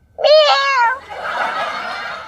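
A woman imitates a cat with her voice: one drawn-out, wavering meow, loud and close, that trails into a breathy, airy hiss before fading.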